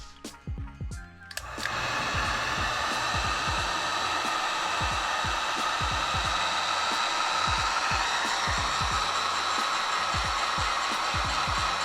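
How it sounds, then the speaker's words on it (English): A heat gun shrinks heat-shrink tubing over wires for a UV DTF printer's white ink stir motor, whirring on after a click with a steady loud blowing hiss, nearby, with faint ticking and tapping underneath. "Slide your shrink tube over, and then we're ready for the heat gun."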